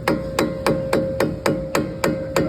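Steady metal hammer blows strike a vehicle wheel assembly during a CV axle job, about nine evenly spaced, loud, ringing hits with no talk.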